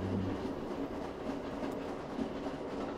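A train rumbles steadily in a Thief fan mission game, with continuous rolling wheel clatter and a low mechanical hum, fairly quiet, and no one talks.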